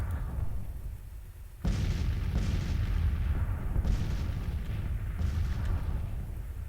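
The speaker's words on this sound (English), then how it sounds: "Counter battery fire. Close range. 3-inch ordnance." Artillery fire from 3-inch ordnance guns in the Grand Tactician: The Civil War strategy game, a sudden heavy boom followed by several further distant booms over a steady low battlefield rumble.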